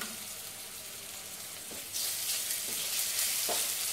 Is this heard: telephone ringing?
no